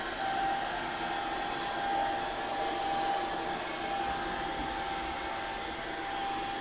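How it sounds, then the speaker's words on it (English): A hairdryer blows hot air onto resin on an axe, giving a continuous, even whirring drone at moderate volume that runs unbroken with no talk. "Another great use for the hairdryer, friends."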